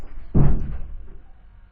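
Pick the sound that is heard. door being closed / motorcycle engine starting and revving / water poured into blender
door being closed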